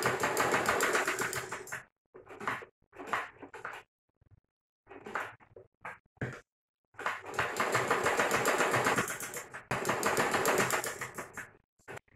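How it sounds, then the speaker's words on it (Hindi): A sewing machine stitches fabric for a capri pouncha in short bursts, a close, rapid mechanical whirr that starts and stops several times with quiet gaps between runs. "यहाँ से हम इधर सिलाई लगा देंगे"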